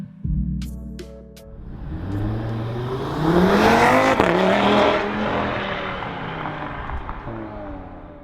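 A 2018 Audi TT RS engine pulls hard through the gears, rising in pitch and roaring loudest midway, then easing off with steady driving noise.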